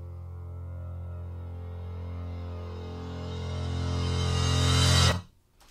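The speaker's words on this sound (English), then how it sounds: "I hit this note on the piano, an octave note, and reversed it, and I reversed a crash cymbal." Reversed piano octave note layered with a reversed crash cymbal, swelling steadily louder over about five seconds with bright hiss building on top, then cutting off abruptly with a short faint tail.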